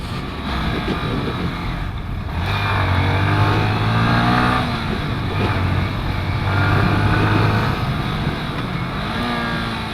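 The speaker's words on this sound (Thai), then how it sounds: "เข้าเกียร์เดี๋ยวถอนเกียร์นะครับ" A Yamaha M-Slaz motorcycle engine drones while riding, its pitch rising and falling as gears shift, with steady road and wind noise throughout.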